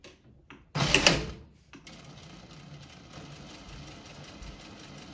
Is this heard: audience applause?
no